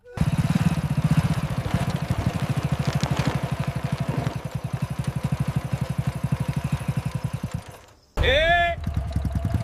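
A motorcycle idles after being pulled over, its engine thumping in a steady, rapid pulse close by, gradually easing, before a voice cuts in at the end.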